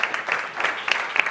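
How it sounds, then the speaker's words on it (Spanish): A short, dense burst of audience applause at a business summit, many hands clapping at close range for just over a second. "Un aplauso para Antonio."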